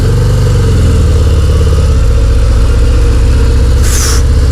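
A loud 2019 Harley-Davidson FXDR 114 motorcycle engine rumbles steadily at low revs while riding, deep and continuous, with a brief hiss of wind or noise near the end.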